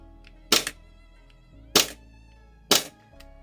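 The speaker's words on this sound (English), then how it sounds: "very nice snappy feeling blowback" An Army Armament R18 gas blowback pistol fires three sharp, snappy shots up close, spaced about a second apart. Each crack decays quickly into a quiet mechanical background, with no voices.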